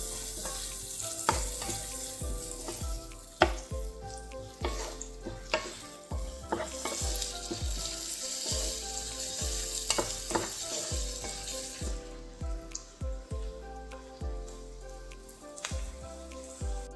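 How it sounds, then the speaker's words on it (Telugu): Chopped onions fry on high flame in a pan for palak paneer, a steady sizzle with stirring scrapes beneath prominent background music with a regular beat. "ఇప్పుడు ఫ్రై చేసుకున్నాం. ఇది కూడా హై ఫ్లేమ్లో పెట్టుకుని ఫ్రై చేసుకుందాం గోల్డెన్ బ్రౌన్ కలర్"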